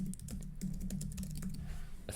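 Fast, light typing on a computer keyboard, a close and quiet run of irregular key clicks with no talking over it.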